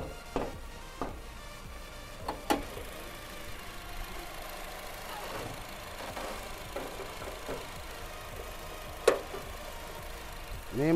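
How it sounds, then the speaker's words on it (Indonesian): Used seven-seat minibus with its original engine idling, a faint steady rumble with occasional knocks and clicks, heard close with no talk. "Ini mesinnya masih asli."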